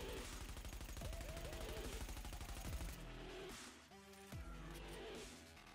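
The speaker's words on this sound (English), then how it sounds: "Here's another long-range shot without fighting the recoil." Rapid automatic fire from a Vector submachine gun in the shooter game The Division, a dense continuous burst of shots that gives way to shorter bursts with echoing impacts.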